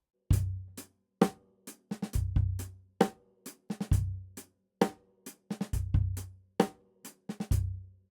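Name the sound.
slow punchy drum backbeat with ghost notes and drags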